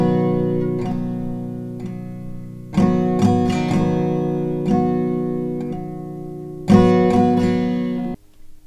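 Acoustic guitar strums the first line of the verse of a song: a down-down-up pattern of ringing chords with a few louder strum bursts, played close and clear with no voice.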